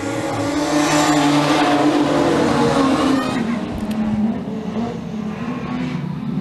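A field of eight production sedan race cars starting a heat race: loud, sustained roar of multiple engines accelerating together, pitch rising and overlapping, then thinning slightly as the pack pulls away.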